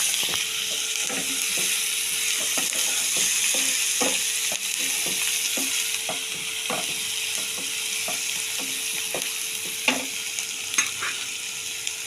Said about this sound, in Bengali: এবার চর্বিটা দিয়ে একটু আমাকে ভালো করে ভেজে নিতে হবে